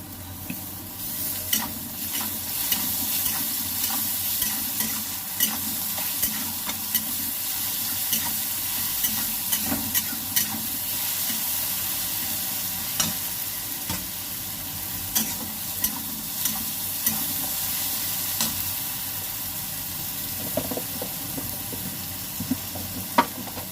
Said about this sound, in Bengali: পেঁয়াজটা ভাজা হয়ে গেছে, রসুন দিয়ে দেব।